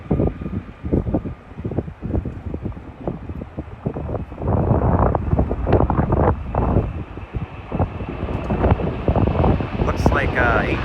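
Strong gusting wind buffets the microphone at MSP airport on a very windy day, roaring in uneven bursts that rise and fall, with someone talking over it.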